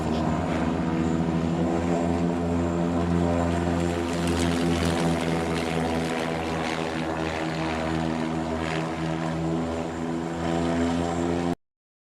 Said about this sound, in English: Spitfire, you can't beat the sound of a Merlin